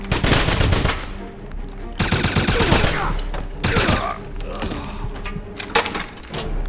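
Gunfire in the shooter Wolfenstein: The Black Sun comes in loud, repeated bursts of rapid shots with short pauses between them, with voices shouting in the middle of the fight.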